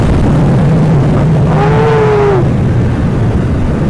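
A 2014 Yamaha MT-07 motorcycle downshifts into a corner, a brief rising and falling engine rev blip heard over loud, constant wind rush and a low engine drone.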